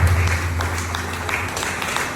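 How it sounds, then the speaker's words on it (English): Audience applause following a speaker introduction at a career talk. The clapping is moderate and somewhat thin, and it carries steadily through the whole short stretch, with a low hum underneath. "Round of applause"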